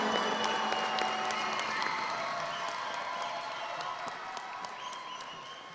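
Audience applause for graduates at the Prospect High School class of 2021 graduation ceremony, a steady dense roar of clapping and cheering from a large crowd that fades slightly toward the end.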